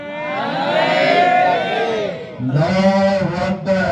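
A large crowd at a religious gathering shouts slogans in unison in answer to a leader, loud and close, in two long swelling bursts with a brief dip between them.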